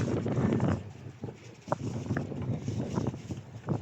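Strong wind buffets the microphone with steady low rumbling gusts, rising and falling throughout, with a few faint clicks in the background.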